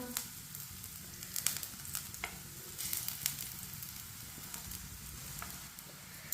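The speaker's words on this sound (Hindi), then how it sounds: "पराठे को 2 मिनट के लिए पकने देते हैं।" A paratha cooking on a pan over a medium flame gives a steady soft sizzle and crackle of frying oil, with occasional sharper pops and light scrapes, fairly close and continuous with no talking.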